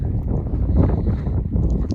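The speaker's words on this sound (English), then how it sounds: "it's so windy" Low, steady buffeting rumble of strong wind blowing across a microphone, continuous and close, on a mountain trail at Big Bend National Park.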